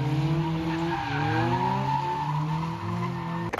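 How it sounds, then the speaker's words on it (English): A car drifting at the British Motor Show, its tyres squealing in a long sustained screech over a revving engine, loud and close, with no talk. "like all that drifting"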